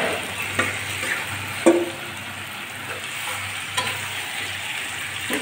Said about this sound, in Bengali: এবার ম্যারিনেট করা চিকেনটা পেঁয়াজের ভিতর ঢেলে দিচ্ছি।